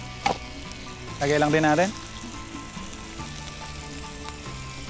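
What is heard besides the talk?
chicken searing in a pan, ginger added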